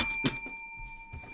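A single bright bell ding rings out with a clear, lingering metallic tone, followed by a second softer strike a moment later, then fades over faint background murmur.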